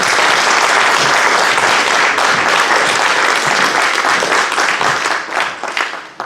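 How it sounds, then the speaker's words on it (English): A church audience claps in a loud, dense burst of applause that holds steady, then thins out and fades near the end. "Let's give Bart a round of applause then."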